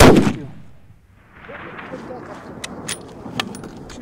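A rifle shot fired at an ibex while hunting in the mountains of Kyrgyzstan: one loud crack at the start that rings out across the valley and fades, followed by quieter outdoor rustling and light clicks.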